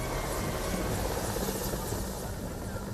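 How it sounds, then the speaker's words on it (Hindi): Indian Air Force helicopter unloading Garud commandos, its rotor and turbine making a loud, unbroken roar close by for the whole stretch, with no talking. "कमांडोज ने हेलीकॉप्टर से उतरते ही अपनी पोजीशन ले ली।"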